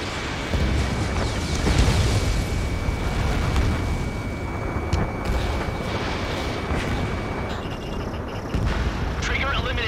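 A missile blast in the Ace Combat 7 flight game, flown in a Darkstar jet, is buried in a dense, continuous roar of engine rumble and booming detonations. A few sharper bursts poke through near the end.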